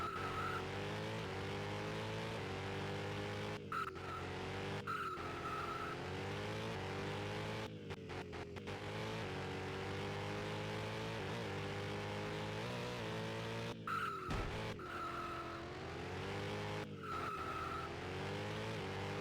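Heavy F1-style race car driven in the Turbo Sliders Unlimited racing game: a loud, steady engine drone that rises and falls in pitch with gear and throttle changes, broken by a few brief dropouts.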